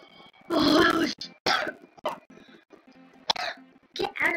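A few harsh coughs in short bursts, the first loud and drawn out, then quieter coughs scattered between breathy pauses.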